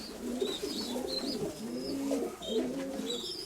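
A young brown pigeon in a dovecote gives steady, soft rolling coos close by, repeating throughout with faint higher chirps from other birds in the background.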